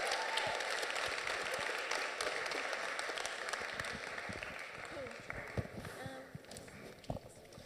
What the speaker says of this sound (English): a massive round of applause to the panelists as well